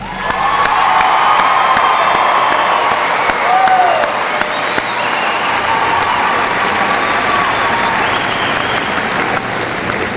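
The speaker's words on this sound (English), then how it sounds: "Please give these seniors a round of applause." Sustained, loud applause from a large crowd at a high school graduation ceremony honoring the graduating seniors, with cheers and whoops rising through the steady clapping for about ten seconds.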